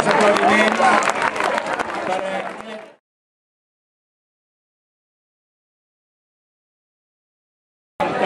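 Spectators at a castellers human-tower event in Castelldefels applaud in a dense, loud burst mixed with crowd voices, fading out after about three seconds into silence before noise briefly returns at the end.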